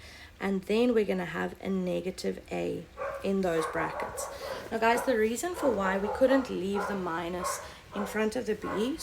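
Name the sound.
dogs barking outside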